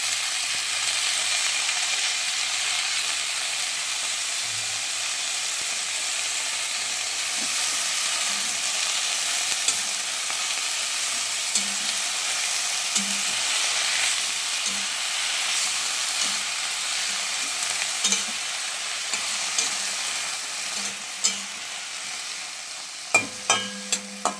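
Bathua greens cook in a frying pan alongside fried brinjal, giving a steady broadband sizzle with occasional stirring scrapes and a few sharp clicks toward the end, with no voices.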